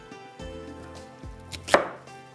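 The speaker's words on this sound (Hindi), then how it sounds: "इसको करते हैं टुकड़ों में इस तरह से, चॉपर में जाएगा" A large onion is chopped into pieces on a board with several close knife thuds at uneven intervals, one louder sharp chop near the end, no talking.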